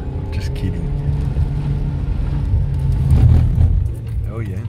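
A car is driven on a skidpan with traction control off, its engine droning and swelling into a louder rev midway, while people talk over it inside the cabin.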